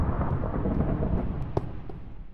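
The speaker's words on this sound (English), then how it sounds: "I am like how far underground, and I can hear that thunder going." Deep thunder rumbles on steadily throughout, heard while the player is far underground in a diamond-hunting game, with a brief sharper crack near the middle and no voices.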